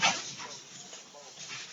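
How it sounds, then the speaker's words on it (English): Dogs bark and yip while playing indoors, a quick flurry of faint, fairly distant barks and whimpers over a brief stretch. "Sorry, dogs are playing."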